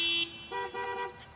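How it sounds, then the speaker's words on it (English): A car horn honks in a few short toots, the first a steady tone followed by a couple of quick bursts, loud and close with no talk over it. "honk your horn."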